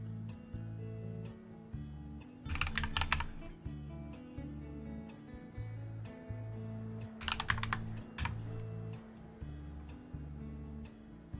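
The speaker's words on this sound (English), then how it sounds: "I will just type in the right numbers from here" A computer keyboard being typed on in two quick bursts of clicking keystrokes, a few seconds apart. A steady low, looping background tone plays underneath.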